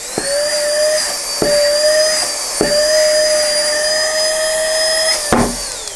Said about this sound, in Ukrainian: І він її спокійно піднімає за допомогою сили всмоктування.